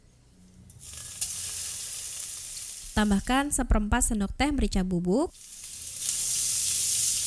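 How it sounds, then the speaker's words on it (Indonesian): Crushed garlic and shallots sauté in hot oil in a wok for Indonesian fried snacks, giving a steady, close crackling sizzle that continues under a woman's spoken instructions. "Setelah minyaknya panas, masukkan 4 siung bawang putih dan 4 bawang merah yang udah diulek atau dihaluskan."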